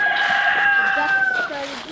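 A homestead chicken gives a long, drawn-out rooster-like call near and loud, a strained sustained cry that tails off into lower clucking notes.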